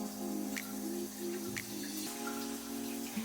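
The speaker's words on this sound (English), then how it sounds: "while I'm scrubbing my hair" Wet curly hair is scrubbed with shampoo, giving soft, close squishy and dripping sounds over a steady background hum.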